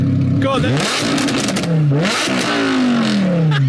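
An Audi R8 fitted with a QuickSilver exhaust revs hard in its loud party mode, the engine note sweeping up and down in repeated surges close by, with voices exclaiming over it.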